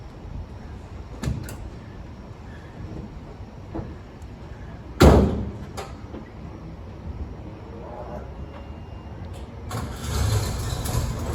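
A LeMons endurance race car's engine turns over and catches, then settles into a quiet idle, with scattered knocks and a door-like clunk around it, no speech.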